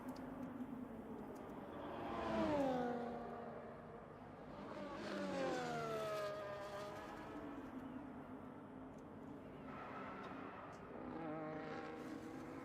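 F1 24 race cars run through the last meters of a virtual Abu Dhabi track toward the finish line, faint engine whines rising and falling in pitch as several cars pass in turn, with no talk.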